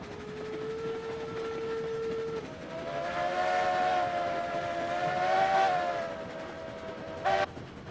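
A steam locomotive whistle in the Railroads Online train game blows a sustained chord-like tone that shifts pitch partway through, with a short sharp final toot, heard alone against quiet background.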